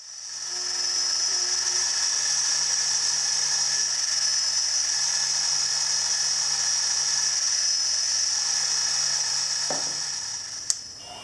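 Steady machining whine from drilling a 6mm hole with cutting fluid in a side plate for a Hemingway knurling tool, a continuous high tone with low hum beneath, constant throughout and ending with a small click.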